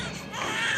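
An infant wails in a Haryanvi family drama scene, a short, steady, fairly loud cry close by, heard alone without talk.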